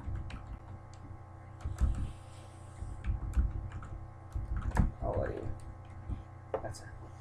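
Someone types a short greeting on a computer keyboard, producing a scattered run of light, close key clicks at an uneven pace over a low steady hum.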